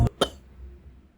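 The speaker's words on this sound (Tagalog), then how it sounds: "Inuubo ako." A child coughs twice in quick succession, two short, close, sharp bursts followed by quiet.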